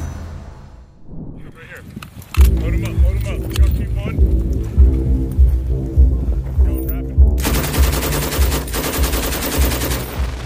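An M240 machine gun fires in sustained rapid bursts, with dense repeated reports that grow louder and harsher toward the end, set against a low rumbling background.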